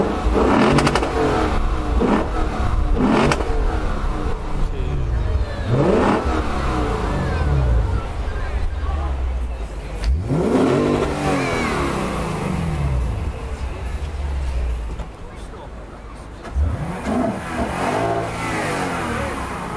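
A 585-horsepower Lexus RC F revs hard at a London motor show, its engine climbing and falling in repeated loud surges over steady background noise, with some talking mixed in.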